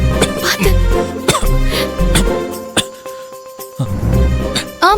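A person coughs hard after choking on cake, in repeated bursts over a dense bed of speech and background music, loud and close.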